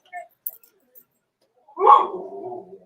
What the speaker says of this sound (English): for some reason my dog outside is freaking out